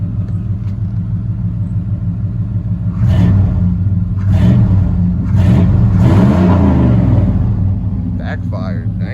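A Nissan Xterra truck idles with a steady low rumble, then takes a few quick revs that swell and fall back, loud and near.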